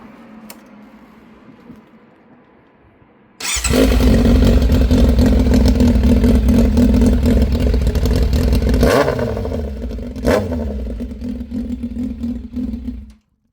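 Yamaha Fazer 600 motorcycle engine running without an exhaust muffler: a quiet idle, then a sudden loud, raw, sustained rev with a steady drone that wavers and surges before cutting off abruptly.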